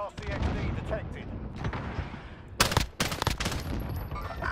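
Rapid bursts of automatic gunfire crackle in a Call of Duty match on Rebirth Island, dense volleys clustered in quick runs with a sharper, louder burst near the middle, heard close and mixed under players talking.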